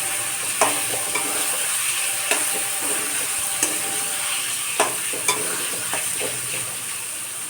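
Eggs for an omelette sizzle in a hot pan with a steady, close frying hiss, broken by occasional light taps of a utensil against the pan.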